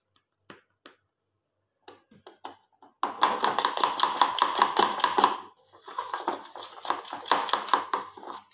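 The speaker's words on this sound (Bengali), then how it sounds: "কর্নফ্লাওয়ারটা ফেটিয়ে নিতে হবে।" Cornflour batter for chicken fry being whisked in a bowl, a quick run of rapid rhythmic tapping and scraping strokes after a few isolated knocks, close and steady, with no talk.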